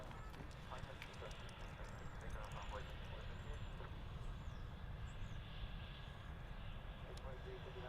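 A McDonnell Douglas MD-11 jet at Dallas/Fort Worth International Airport makes a steady, distant low rumble that holds for the whole stretch, with voices talking over it.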